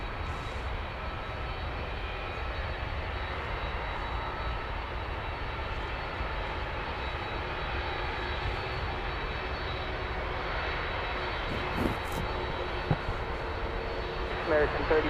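Airliner engines roaring steadily during takeoff on runway 18 left at DFW Airport, Texas, a broad continuous rumble with air traffic control radio chatter over it.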